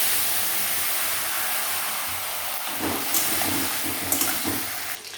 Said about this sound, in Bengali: এবার চিংড়ি মাছগুলো দিয়ে দিচ্ছি।